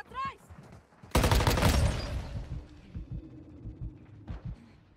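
In Warzone Mobile, a burst of rapid automatic gunfire from the Shimo weapon erupts loud and close, then trails into a few scattered thuds and softer shots.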